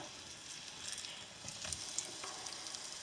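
Breaded eggplant slices, coated in breadcrumbs and a little flour, fry in hot oil in a pan, giving a steady, fairly faint sizzle with light crackling throughout.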